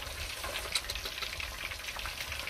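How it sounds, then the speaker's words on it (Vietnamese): Catfish frying in hot oil in a pan, a steady dense sizzle with crackling pops throughout, close and fairly loud with no talking. "Cá mà mình chiên mình gấp quá"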